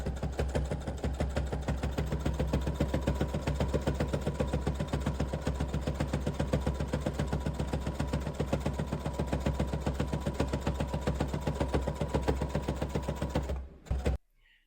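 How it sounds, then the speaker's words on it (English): A sewing machine stitches the pockets of a reversible fabric tote bag in a fast, even, continuous rattle, close and alone, stopping abruptly near the end. "I am done sewing the pockets."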